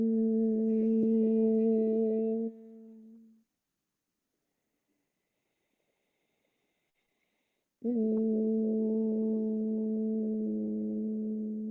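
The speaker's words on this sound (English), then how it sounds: "Inhaling, then exhale to humming sound." Two long hummed tones on the exhale during yoga breathing practice, each a steady voiced drone lasting a few seconds, separated by a silent pause for the inhale; close and clear with no talking.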